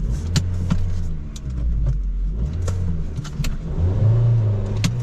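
A used car's engine with a worn-out clutch, checked at a vehicle auction, revs in a steady low rumble that rises and falls under sharp clicks and jangling, with the engine note climbing toward the end.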